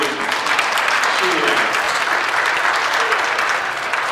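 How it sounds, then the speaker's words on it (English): Loud, sustained applause from a crowd at a charity auction, a dense, even clatter of many hands clapping throughout. "give yourselves a round of applause for how much you do"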